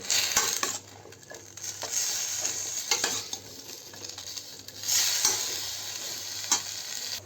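Cauliflower and potatoes frying in oil, stirred with a metal spatula that clinks and scrapes against the pan in uneven strokes over a continuous close sizzle.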